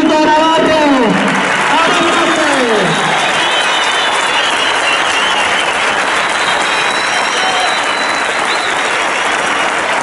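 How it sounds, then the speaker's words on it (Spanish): Warm crowd applause in a town square in Corella, Navarra, sustained loud clapping from many people, with a shout or voice briefly rising over it at the start. "recibe también el caluroso aplauso de tu pueblo, Navarro"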